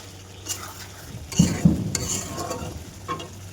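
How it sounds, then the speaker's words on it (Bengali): Mutton curry with potatoes sizzling in a pan as a spoon stirs it, giving several close scraping strokes over steady frying hiss, with a louder burst of stirring near the middle and no voices. "সুন্দর কষানো হয়ে গিয়েছে, এবার দিয়ে দেবো পেঁপেগুলো।"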